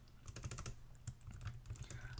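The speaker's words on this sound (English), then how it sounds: "I'm going to go back to typing because that seemed to work really well for us." Quiet typing on a computer keyboard: clusters of soft, irregular key clicks come in short bursts with brief pauses, close to the microphone and with no one talking.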